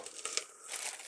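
Wide metallic foil deco mesh crinkles and rustles as it is handled up close, a continuous bright crackly rustle lasting about a second with no talk.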